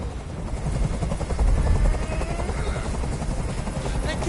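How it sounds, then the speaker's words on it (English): A helicopter hovers overhead in the video game Detroit: Become Human, its rotor chopping in a loud, steady, rhythmic thrum that swells slightly midway. "I can't stand that noise anymore. Tell that helicopter to get out of here."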